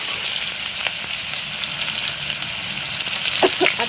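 Onion sizzling in hot oil with dried chilli and panch phoron, a loud, dense, continuous frying hiss up close, with a few faint stirring taps near the end.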